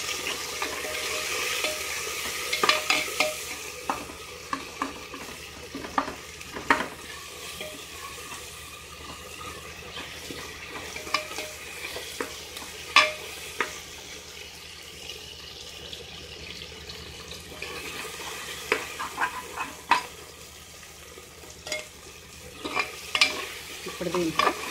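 Goat trotter curry (paya) stirred in a pan, with a continuous sizzle under repeated loud scrapes and clinks of a ladle against metal throughout, no talking.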